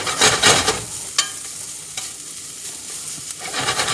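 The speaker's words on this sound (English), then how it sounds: "Just kind of mix it up a little bit so the grease from the bacon kind of gets all over the potatoes" Potatoes fry in bacon grease for a frittata, a dense close sizzle with scraping stir strokes and utensil clicks scattered through, loudest near the start.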